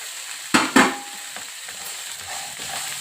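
Soaked green gram sprouts with salt fry in a pan, giving two sharp scraping stirs near the start, then a soft, steady sizzle, with no talk.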